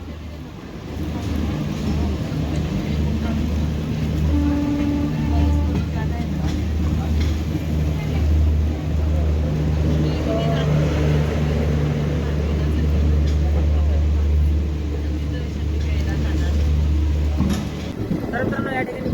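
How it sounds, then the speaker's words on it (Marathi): The Tapovan Express runs out of Nashik Road in a heavy downpour, a loud steady rumble of wheels and carriage under a constant wash of rain, while someone talks over it. "नाशिक रोडवरून आपली ट्रेन निघालेली आहे आणि जबरदस्त मुसळधार पावसाला सुरुवात झालेली आहे"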